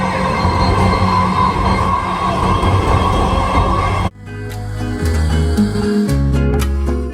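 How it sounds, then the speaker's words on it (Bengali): A Dhaka metro rail train runs with a loud, continuous rumble and rattle. The roar drops sharply around the middle, then resumes with a steadier hum and occasional clicks. "This train is bound for Agargaon. Next station is Kajipara."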